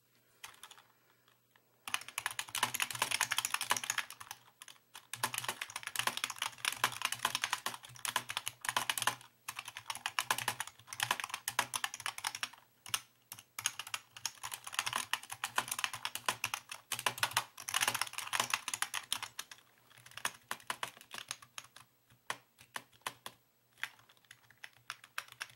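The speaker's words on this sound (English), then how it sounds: "here's a quick sound test of what that key switch sounds like" Continuous fast typing on a Masione membrane gaming keyboard with Cherry MX-compatible stems, dense soft-edged clacks in irregular bursts close up, with brief pauses and a low steady hum beneath.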